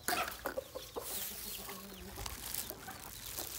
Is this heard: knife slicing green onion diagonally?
no